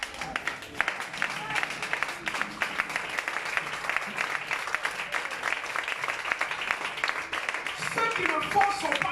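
A church congregation applauds and cheers in acclaim of the Lord, with sustained dense clapping and raised voices filling the room throughout.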